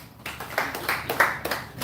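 A seminar audience gives a short burst of applause, a few quick, uneven claps that sound close and moderately loud.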